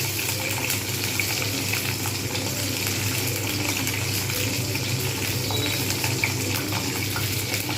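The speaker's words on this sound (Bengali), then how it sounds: "এইবার আমি তেলের মধ্যে দিয়ে দেবো পটলগুলো। সুন্দরভাবে এগুলো ভাজবো।" Pointed gourd (potol) pieces frying in hot oil in a home kitchen, a steady crackling sizzle that runs evenly throughout at moderate level, with no talking.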